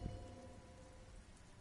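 Steady rain falling in the video game Disco Elysium, a soft, even patter with no voices.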